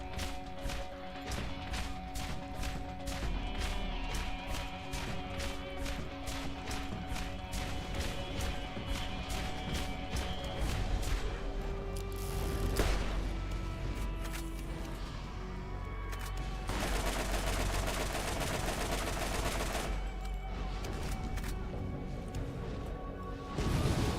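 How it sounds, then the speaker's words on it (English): In the Borderlands game, the Mothra enemy drops bombs again and again, a dense barrage of loud crashes and booming thuds from explosions that continues almost without pause. "Mothra bombs you, and Mothra bombs you a lot."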